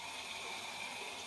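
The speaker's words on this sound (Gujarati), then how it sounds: "અવાજ આવે છે પણ મોટરનો અવાજ આવે છે." A household water pump motor runs steadily while water fills containers, a constant even whir and rush of flowing water with no voices.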